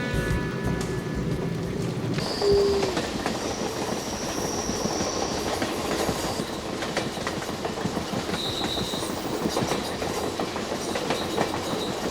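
A North American passenger train with salon, dome, passenger and sleeping cars rolls along the rails, a continuous rumble with steady clickety-clack and brief high squeals from the wheels, heard from on board.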